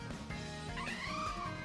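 The cry of the Pokémon Persian in a video game, a synthesized cat-like yowl with a rising and wavering whine, fairly clear over low game background sound.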